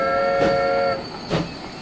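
Steam-style train whistle from the Transport Fever 2 game sounds in two blasts: a long steady multi-tone note of about a second, then after a short gap a brief second toot, over a faint rumble of rail noise.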